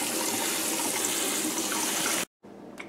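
Water drains from a tub of freshly sprouted fenugreek seeds, a steady close rushing trickle that cuts off abruptly, followed by a faint quieter tail of dripping.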